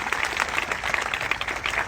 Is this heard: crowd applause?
yes